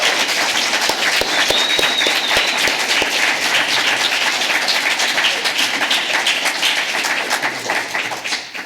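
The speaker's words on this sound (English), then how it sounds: "you can show your appreciation for the candidates by your applause." An audience at a Minneapolis city ward candidate forum applauds steadily, a dense wash of clapping with a few distinct near claps at the start, fading slightly at the end.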